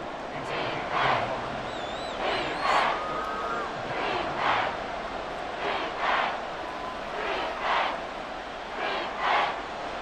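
Stadium crowd in the video game Madden 24 during a Bears vs Houston Texans game, a steady roar of cheering that swells in repeated waves ahead of a big third down, loud and continuous.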